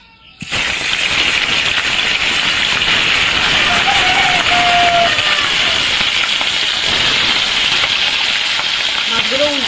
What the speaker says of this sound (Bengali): তেলটা গরম হয়ে গেছে, মাছগুলো দিয়ে দেব।